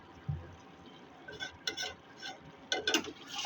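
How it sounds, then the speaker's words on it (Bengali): Chicken curry being stirred in a pot, heard as quiet, intermittent scrapes and metallic clinks of a spoon against the vessel, spaced irregularly over a low background hiss. "একটু নাড়াচাড়া করতে হবে।"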